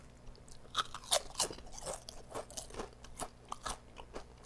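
Someone eats sour cream and onion potato chips up close, with crisp irregular crunches and bites followed by softer chewing, quiet and with no talking.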